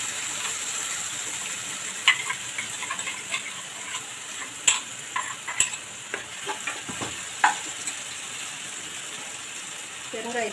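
Mustard seeds and curry leaves crackling in hot oil for a tomato rasam, with a steady close sizzle sprinkled with sharp pops and light clinks of a stirring spoon, no talking.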